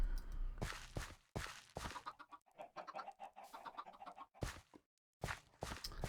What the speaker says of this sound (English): I love how you can hear the chickens from here.